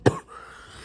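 One short, sharp cough from an itchy throat, close and brief, followed by quiet.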